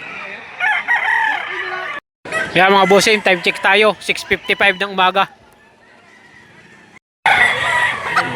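Roosters crow loudly several times at a Lipa City, Batangas livestock auction market, drawn-out calls sounding over someone talking before and after them.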